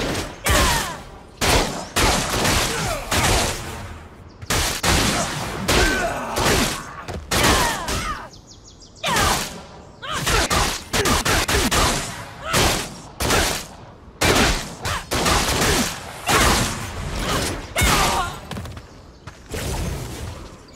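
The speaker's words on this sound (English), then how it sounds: "Gun sounds are really nice" Rapid bursts of video game gunfire crackle almost nonstop, loud and close, with dense overlapping shots and brief gaps between volleys.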